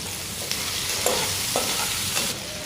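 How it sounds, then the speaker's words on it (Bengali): Potatoes fry in mustard oil with a little salt and turmeric, giving a steady close sizzle broken by a few scraping stirs of the spatula across the pan. "আর একটু তেল দিয়ে দিচ্ছি সর্ষের তেল আলুগুলোও ভেজে নেব"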